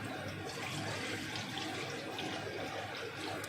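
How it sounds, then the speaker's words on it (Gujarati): Half a litre of milk is poured into a pot, a steady, close liquid splashing and gurgling that runs evenly for a few seconds without talk. "1/2 લીટર દૂધ નાખી દીધું આપણે."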